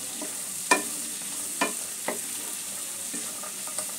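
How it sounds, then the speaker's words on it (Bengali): Mixed vegetables with capsicum fry lightly in a pan over a medium gas flame, giving a steady soft sizzle broken by a few sharp clicks of stirring. "সমস্ত সবজিগুলোই একটু হালকা করে ভেজে নেব।"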